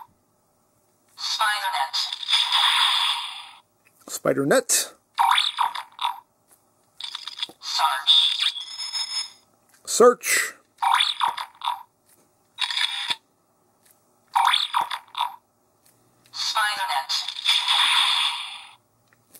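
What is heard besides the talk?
Kamen Rider Geats DX Spider Phone toy sound effects and voice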